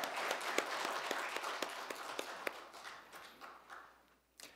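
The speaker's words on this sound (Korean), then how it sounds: "주께 영광의 박수를 돌리겠습니다." Church congregation applauding after a call to praise, a steady wash of many hands clapping with sharper individual claps poking through, fading out toward the end before a last brief burst.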